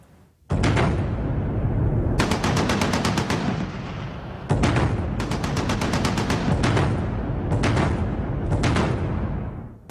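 Bursts of automatic gunfire and heavy shelling at the Torkham border crossing between Pakistan and Afghanistan, loud rapid volleys in several separate clusters, with no talking.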